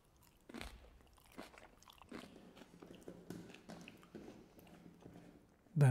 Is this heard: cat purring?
no